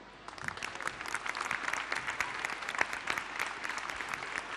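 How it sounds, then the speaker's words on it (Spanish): An audience applauding at the 2014 programming launch event of the children's channel Pakapaka, a sustained round of crowd clapping that swells slightly and holds, with sharp individual claps poking out. "fuerte el aplauso para toda esta gente que trabaja mucho para que el canal exista"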